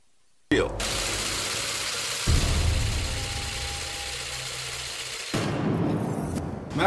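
The Mac-Quan 1 inertial propulsion drive spins at about 1,000 RPM, making a loud, steady mechanical hum and rattle that shifts in tone partway through, then cuts off sharply near the end.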